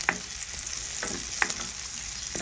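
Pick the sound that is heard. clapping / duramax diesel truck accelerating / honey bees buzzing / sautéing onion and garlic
sautéing onion and garlic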